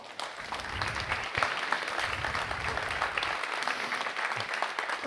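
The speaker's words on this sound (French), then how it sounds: "Vous pouvez toutes et tous applaudir." Audience applause welcoming rugby figure Daniel Herrero at an interview event, a brisk, fairly close burst of clapping from a crowd, holding steady and dense throughout.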